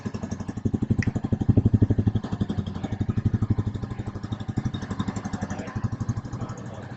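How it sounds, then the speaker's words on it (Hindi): A 2021 Royal Enfield Classic 350 single-cylinder motorcycle idles up close with a steady, evenly spaced thumping beat that runs throughout, with no speech over it. "अब हम आपको नई क्लासिक का साउंड नोट सुनवाते हैं कि कैसा साउंड प्रोड्यूस करती है"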